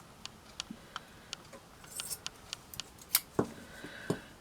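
Scissors cutting a piece of material in two for a shabby chic framed wall hanging, a run of crisp, evenly spaced snips close by, followed by a few louder clacks and rustles near the end.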